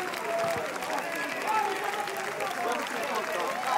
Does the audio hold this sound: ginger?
no